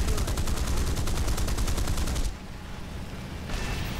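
Rapid gunfire in an air combat game, a rattling burst of machine gun shots from a KI-45 aircraft that runs loud for about two seconds, pauses, then starts again more faintly.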